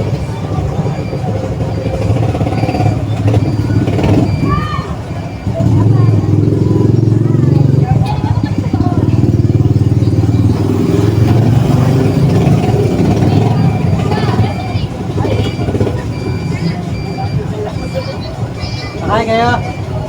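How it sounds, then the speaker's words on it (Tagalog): Motorized tricycles idle in a queue at a tricycle stand, their engines throbbing low and steady, with a louder nearby engine rumbling through the middle; people chatter around them. "Dito ko sa parada ng tricycle. Pila-pila kami dito."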